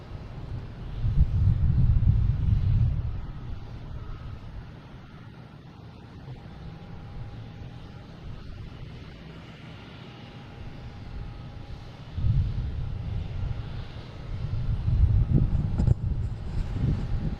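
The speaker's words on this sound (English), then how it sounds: "We have next taking off United Airlines heading to Houston, 737, flight 1183." A United Airlines Boeing 737 roars down the runway on its takeoff roll at Boston Logan, the low engine rumble swelling, easing off mid-clip, then building again loud and close through the final seconds.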